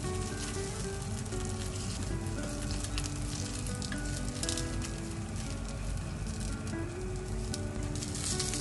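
Steady, dense sizzling of chikuwa and sausages frying in oil in a pan, a close, continuous crackle with no voices.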